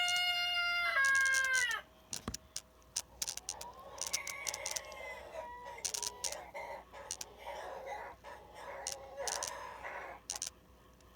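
Roosters crow loudly and repeatedly nearby, long drawn-out calls overlapping with bursts of clucking and other fowl noise.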